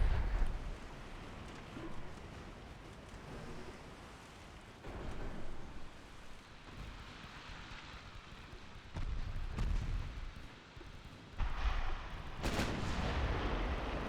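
Torpedoes launch in a naval strategy game set in 1948, heard as deep booming blasts and rumbling bursts that come in several separate waves over a low background roar, with no talk.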